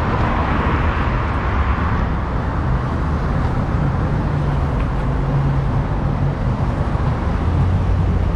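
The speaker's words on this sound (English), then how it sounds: "As you can almost certainly tell, a very, very busy road." Dense, continuous roar of heavy traffic on a very busy road in Long Eaton, Derbyshire, a steady close wash of passing vehicles with deep engine rumble throughout and no speech.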